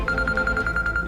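A telephone in a Hindi TV drama rings with a rapid, evenly pulsed electronic chirp, about ten short beeps in a quick steady rhythm, clear and alone.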